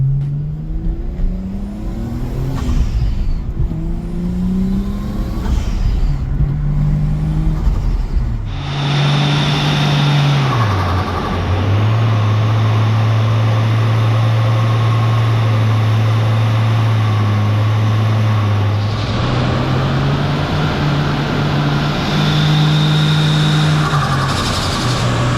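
A turbocharged Nissan Skyline drives along with a loud, steady engine drone that rises and falls through gear changes, and its whirring tone holds close throughout.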